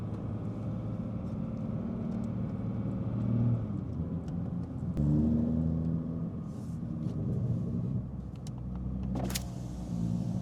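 A Toyota Supra decorated with Christmas lights driving down the road, heard from inside as a steady low engine and road rumble with a couple of swells in intensity and faint brief rattles, no talk.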